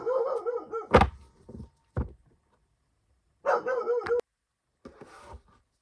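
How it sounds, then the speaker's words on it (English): A puppy gives a few short barks and whimpers nearby, separated by pauses and a couple of dull thumps, with no talk over them. "That puppy dog was just barking"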